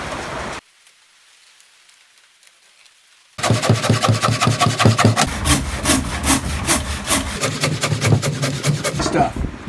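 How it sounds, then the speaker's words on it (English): A brand new jigsaw cuts heart pine board for an outdoor shower, starting after a quiet pause with loud, fast rasping strokes that continue steadily to the end. "I'm going to cut it out with this brand new jigsaw that I just bought for Dawn."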